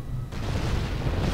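Missile explosions from the mech combat game MWLL, a dense, continuous low rumble of blasts that rolls on without a break after a brief quieter opening.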